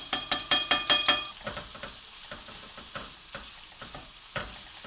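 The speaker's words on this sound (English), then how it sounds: "Go ahead and brown the beef just like that." Ground beef browning in a pan for a tomato meat sauce, with a quick burst of loud scraping stirs at first, then quieter intermittent scrapes over a steady low sizzle.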